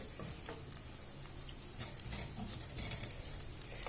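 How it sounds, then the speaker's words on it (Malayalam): A spatula stirs a chilli and coriander spice mixture for tuna cutlets in a frying pan, giving faint, soft scraping and light sizzling with scattered small clicks, no voices. "ഇതെല്ലാം ചേർത്ത് കൊടുത്തതിന് ശേഷം നമുക്കിതൊന്ന് ഇളക്കിയെടുക്കാം"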